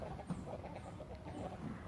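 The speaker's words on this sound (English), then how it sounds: "My chickens are fighting through their cage." Chickens scuffle and cluck faintly inside a cage on a Maine homestead, a low muffled flurry of agitated fowl noise with no clear crow.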